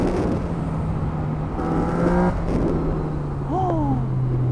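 A 2020 Yamaha MT-09 motorcycle accelerates on the road. Its engine note climbs in rising sweeps under steady wind rush, heard close and fairly loud.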